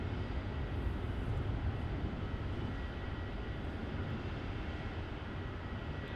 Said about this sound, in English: Taking off like a little rocket there, as always with those 717-200s.